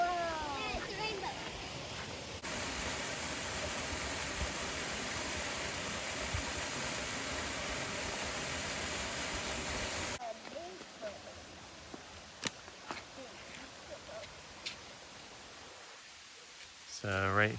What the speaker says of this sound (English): So right here is the top of the waterfall.